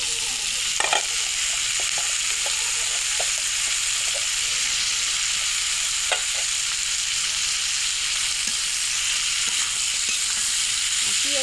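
Carrot and chopped potato fry steadily in a pan of oil for a mixed vegetable bhaji, a continuous close hiss and sizzle broken by a few faint taps of a stirring utensil.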